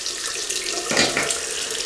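Water runs steadily from a tap while a double-edge safety razor is rinsed, with a brief louder splash partway through as the blade passes under the stream.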